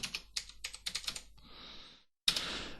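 Quick bursts of keystrokes on a computer keyboard while writing in LibreOffice Writer, close and crisp, then a short pause and a final burst of clicking.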